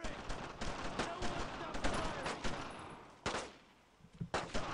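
Bursts of rapid gunfire from a World War II shooter game, Brothers in Arms, crackling loudly and nearly nonstop with short gaps, with a voice briefly shouting over the shots.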